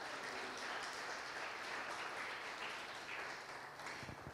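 A church congregation gives a warm round of applause, a steady even wash of many hands clapping at moderate distance that tapers slightly near the end.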